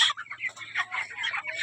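Domestic chickens in a household coop, where a couple of birds have recently died and the flock is off its feed, keep up a busy run of clucks and short calls, fairly close and continuous, with no talking.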